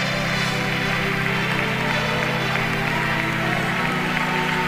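Congregation applauding during a Spanish-language evangelical church service, a continuous wash of clapping mixed with sustained music and crowd noise at steady loudness.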